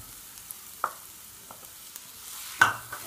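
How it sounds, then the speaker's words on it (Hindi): A spoon scrapes and clinks through a boiled potato mixture in a pan, giving a few sparse, distinct taps and scrapes over a faint background, with one louder knock near the end. "अच्छे से मिक्स कर लेंगे।"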